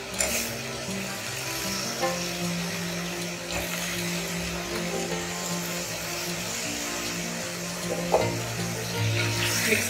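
Tomatoes frying in a potato curry masala, a steady close sizzle with stirring scrapes and a few sharper clinks of a utensil against the pan.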